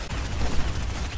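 Rapid video game gunfire aimed at the player, a steady close crackle of shots filling the full second with no talk over it.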